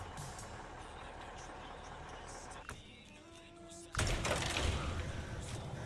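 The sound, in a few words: truck engine starting in the video game SnowRunner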